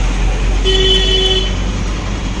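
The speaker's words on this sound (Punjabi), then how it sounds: "ਪੂਰਾ ਟ੍ਰੈਫਿਕ ਹੋਇਆ ਪਿਆ" Busy road traffic with a steady loud roar of passing vehicles and a single sustained car horn toot lasting about a second.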